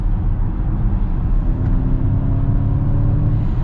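A 2023 Ford Mustang Mach-E GT electric car accelerating, heard as a steady low road and motor rumble with a faint rising whine, loud and continuous from inside the cabin.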